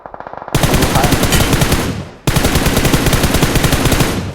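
Rapid AKM assault rifle fire in the mobile battle royale game PUBG Mobile, two loud sustained automatic bursts with a brief break between them.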